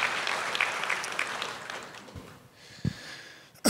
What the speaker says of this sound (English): Yeah, you can give that a round of applause.